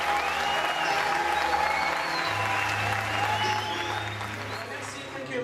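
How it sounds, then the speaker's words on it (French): Audience applause in a hall at a fantasy film festival tribute to director John Landis, a dense steady wash of clapping that holds evenly throughout and eases slightly toward the end. "Hommage à John Landis, sous vos applaudissements"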